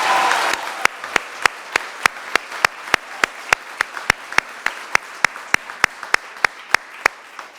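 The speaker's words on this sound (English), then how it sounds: "if you would please give a round of applause to our newest alumni of Georgia Military College" At the Georgia Military College 2021 online commencement, evenly spaced single claps ring out in a steady, brisk rhythm, about three per second, crisp and close, after a brief noisy opening.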